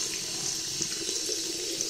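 Steady hiss of hot water pouring from a tap into a sink, constant and fairly close, with no voices.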